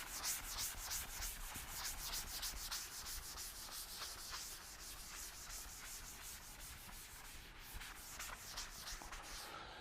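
Soft, continuous rubbing as writing is wiped off a classroom board, a quiet steady scrubbing with rhythmic strokes and no voices.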